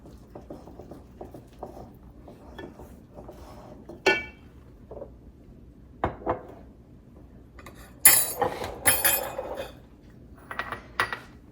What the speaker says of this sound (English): So I'm just gonna stir that in a little bit.